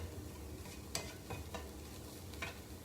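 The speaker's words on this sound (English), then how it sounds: "sauteing the cauliflower, the riced cauliflower, in the pan until it's translucent" Riced cauliflower sautes in a pan with a steady low sizzle, broken by several soft scraping stirs close by.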